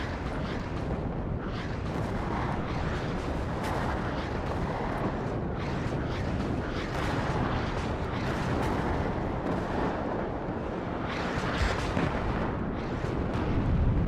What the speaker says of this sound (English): Put some artillery on the bridge